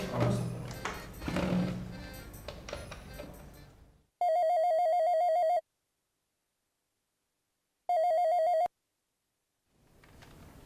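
A landline telephone rings in two electronic bursts, one longer and one shorter, separated by silence, with other noisy sound before and after.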